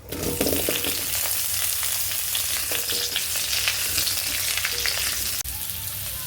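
Sour raw mango pieces for a chutney fry in hot oil after five-spice seasoning, a steady close sizzle with light crackling throughout for several seconds, no voices present.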